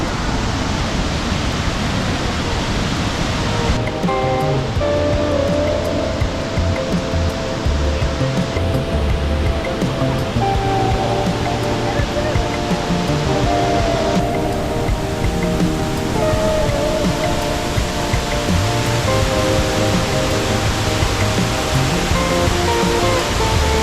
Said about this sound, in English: here are their famous waterfalls